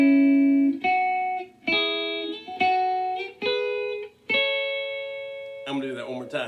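Electric guitar plays a rising double-stop scale in A from a guitar lesson, six distinct picked two-note steps, each ringing clearly with slight effects tone before a brief closing strum; no talking over it.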